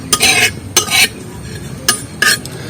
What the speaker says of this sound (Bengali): আর সব কটা উপকরণ কিন্তু ভালো করে ভেজে নেব, এইভাবে কালো করে নেব